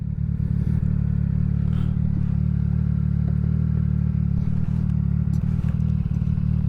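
A CF Moto 675SS sport bike engine runs close and loud as the throttle is worked, a steady deep rumble with faint mechanical clatter and no talking.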